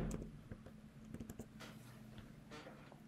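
Keystrokes on a MacBook keyboard, a quick run of light, soft clicks at close range over a faint steady hum, with no talk.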